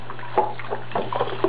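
A rabbit's water dish being rinsed under a running tap, with steady splashing water and small irregular clatters as the dish is turned in the stream.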